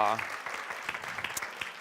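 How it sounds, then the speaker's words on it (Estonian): Short burst of audience clapping after a presentation at an information day in Tartu, brief and fairly faint in a hall. "aplausi nii positiivse viimase ettekande eest"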